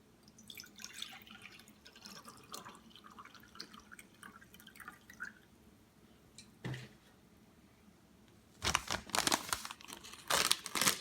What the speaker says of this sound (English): This says to add 12 ounces of water